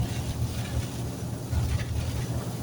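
Strong storm wind roars steadily through the whole stretch, a dense broadband rush with low gusting rumble, loud and close like wind buffeting a microphone during a storm in the U.A.E.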